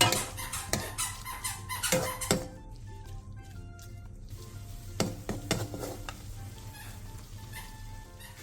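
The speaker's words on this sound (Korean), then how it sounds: "물이 끓으면 중약불로 줄인 뒤 한 번씩 뒤적여가며 5분 정도 조리듯이 볶아주세요" Vegetable side dish stir-fried with cooking oil and water in a pan over medium-low heat: a close run of rapid scraping and clattering stirs, then a quieter simmering sizzle with occasional spatula strokes.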